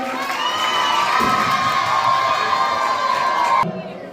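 A crowd at a school music tribute event cheers and shouts loudly, with high excited voices whooping together, then the noise cuts off abruptly near the end.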